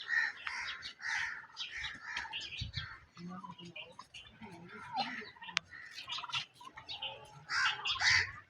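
Free-roaming domestic turkeys gobble repeatedly in bursts over several seconds, close and fairly loud, mixed with other fowl calls in the background.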